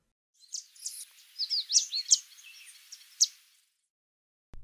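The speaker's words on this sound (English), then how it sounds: "Y is for yellow warbler" A yellow warbler sings a bright, quick run of high chirps and trills for about three seconds, clear and alone against silence.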